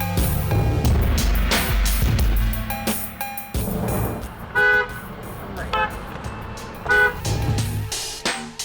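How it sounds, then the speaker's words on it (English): Busy road traffic with short car horn honks, a couple of brief beeps and an answering toot, under engine noise and some voices. "Cammer honks at her when she drifts into his lane, and she beeps back."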